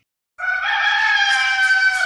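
A rooster crowing as a sound effect, one long, loud, sustained cock-a-doodle-doo call heard alone and close up.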